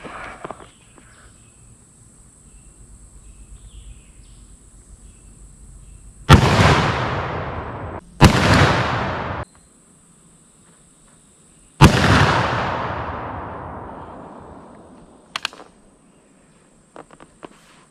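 Three loud black powder rifle shots with long decaying booming tails, the first two close together and the third after a pause, each ringing out for a second or more before fading.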